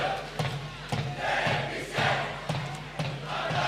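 SACS schoolboy supporters at a U19 water polo semi-final against Bishops sing and cheer together as a loud, sustained crowd chant with rhythmic surges every half second or so, echoing through an indoor pool venue.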